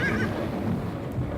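A horse neighing as a sound effect, a close, loud whinny with a shrill opening that trails off into breathy rumbling.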